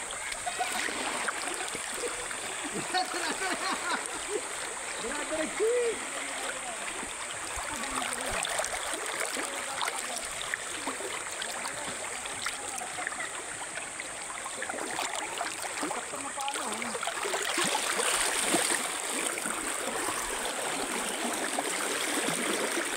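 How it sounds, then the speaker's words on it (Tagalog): A strong river current rushes and churns in a steady broadband wash, continuous and fairly close, swelling slightly toward the end. "Oo, malakas yung agos ah."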